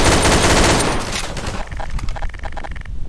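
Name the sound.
gunfire in Garry's Mod video game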